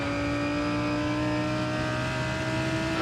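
An LMP prototype race car engine in a racing video game holds a steady high drone with strong tonal whine, loud and continuous.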